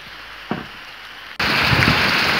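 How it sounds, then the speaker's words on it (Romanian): Steady rain pours down under a grey, overcast sky, a loud continuous hiss that starts abruptly after a quieter stretch with a single soft tap. "Priviți cum plouă!"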